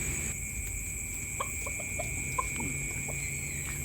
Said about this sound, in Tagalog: Actually mababait itong mga manok na to eh.